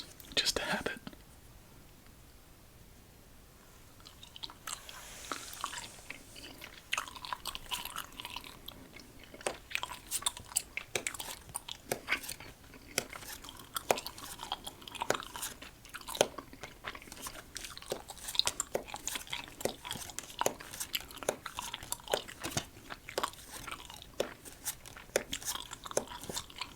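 Close, quiet chewing of Krabby Patty combo meal gummy candy, soft repeated sticky bites and mouth sounds over a long stretch, with whispering around the chewing.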